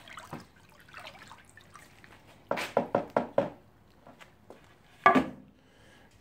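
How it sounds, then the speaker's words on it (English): Oxalic acid solution stirred in a plastic tub, giving soft sloshing and splashing strokes, a quick run of several splashes in a row and one sharper slosh, close and fairly quiet. "Stir up that acid."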